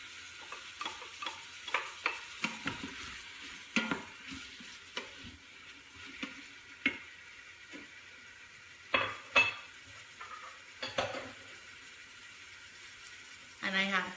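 Diced red and green peppers hit a hot pan and sizzle softly, with scattered clicks and scrapes of a spoon stirring them and brief knocks against the pan.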